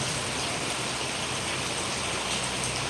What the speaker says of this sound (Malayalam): മഴ വീണ്ടും ശക്തമായിട്ട് വീണ്ടും സ്റ്റാർട്ടിംഗ് ആയിട്ട് വരികയാണ്